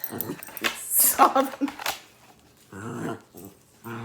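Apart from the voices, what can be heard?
dog whimpering and growling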